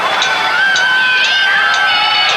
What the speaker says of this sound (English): Crowd seem to be anticipating something good.